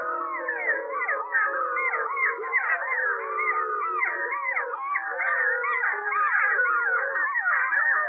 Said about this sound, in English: This is a big chorus howl. You can hear the puppies come in.